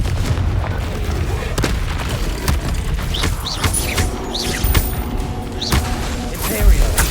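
The Confringo explosion spell goes off repeatedly in Hogwarts Legacy combat, with booming blasts and crashing impacts over a dense battle din while voices shout.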